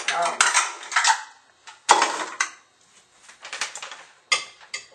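Stuffing is worked by hand in a bowl with a mixing gadget, giving close, loud bursts of metal scraping and clinking against the bowl, separated by short pauses, with no talking.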